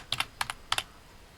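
Several quick taps on a computer keyboard while modelling in Lightwave 3D: a few crisp, close clicks in pairs and short bursts, with no talking.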